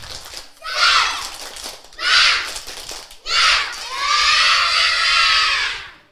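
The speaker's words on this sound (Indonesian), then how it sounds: "Sekarang anak-anak tepuk semangat." Kindergarten children at a school event shout a rhythmic clap chant in bursts, three short loud shouts followed by a longer sustained group yell, close and lively with no separate speech.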